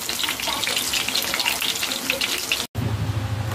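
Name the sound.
chicken breast burger patty frying in a pan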